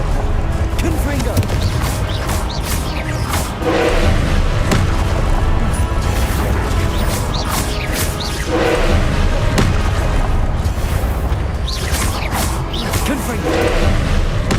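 Repeated Confringo spell blasts exploding in the Hogwarts Legacy video game, loud booming impacts every few seconds over a dense, continuous wash of battle noise and music.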